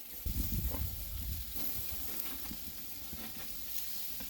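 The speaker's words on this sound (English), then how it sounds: "As you can see, that fat's melting into your steaks." Steaks sear in a hot pan with melting fat, giving a steady close sizzle that flares louder at the start and then settles into a constant frying crackle with no talking.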